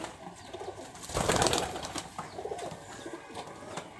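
Giribaz high flyer pigeons coo close by in a Rajshahi loft, one fuller burst of cooing and rustling near the middle, then softer, faint coos continue against background noise.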